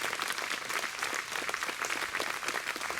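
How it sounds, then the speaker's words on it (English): Dense, sustained audience applause at the concert at Abbotsbury in 2017, a loud, even roar of many hands clapping throughout with no break. "You give them a round of applause"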